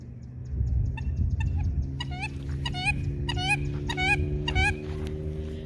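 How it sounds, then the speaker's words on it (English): Ducks at a park waterfall give repeated nasal calls in short bunches that grow busier, heard at a distance over a steady low rumble. "There goes the ducks way over there."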